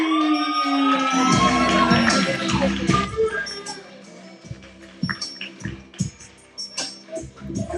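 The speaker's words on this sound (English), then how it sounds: "Please put your hands together, clap it up, and show some love for Breathe with Breathe." Open mic audience at Hot Java cheering and shouting over scattered claps, loud at first, then thinning into sporadic whoops and isolated applause.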